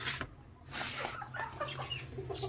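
A hen clucks softly near a clutch of eggs being set for her, giving a few short, quiet clucks in a loose rhythm, close and low in level.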